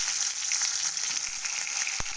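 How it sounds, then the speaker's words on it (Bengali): Eggplant slices fry in hot oil in a pan, a steady, close hiss of sizzling that holds unbroken throughout, with one brief sharp knock near the end and no voices. "তেলেতে বেগুন ছেড়ে দিলাম।"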